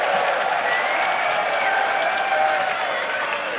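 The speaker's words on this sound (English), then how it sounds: "an applause is in order for Youngbuck indeed." An esports audience at a League of Legends match claps steadily and loudly throughout, a dense, continuous wash of applause with no pauses.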